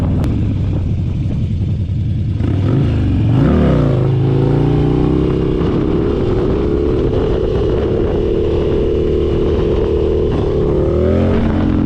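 Harley-Davidson motorcycles, a Dyna and a bagger, riding together on an autumn ride, a loud close engine drone with a rising rev and gear change, then a sustained steady roar with wind rush, no talking.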